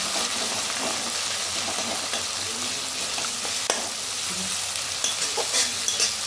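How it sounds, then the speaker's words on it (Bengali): Chopped onions fry in oil in a wok with a continuous loud sizzle and scattered stirring scrapes and clicks throughout. "এখন আমি পেঁয়াজটাকে ভালো করে ভেজে নিচ্ছি।"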